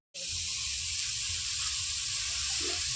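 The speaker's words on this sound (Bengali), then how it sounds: "এখন তার ভিতর মটর শাকটা দিয়ে দিই।" Matar (pea) greens dropped into frying onion paste, bursting into a loud, steady sizzle that starts abruptly and continues evenly at close range.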